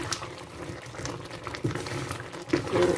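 Prawn gravy in a pan bubbles and simmers steadily over residual heat, giving a continuous close, moderate burbling with small pops and a slight rise near the end.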